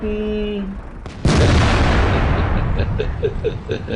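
Tank cannon fire from the World of Tanks game during a 2013 tournament match: a heavy boom erupts about a second in, followed by sustained rumbling battle noise with scattered smaller shots.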